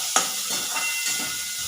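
Capsicum and onion fry in a pan, a steady hiss of sizzling oil with a sharp scrape at the start and a few soft stirring strokes after.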